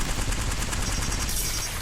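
An automatic gun in a video game is hip-fired at targets in one unbroken, rapid stream of loud, evenly spaced shots lasting a couple of seconds, with no talking over it.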